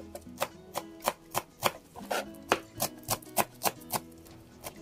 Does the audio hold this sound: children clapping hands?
no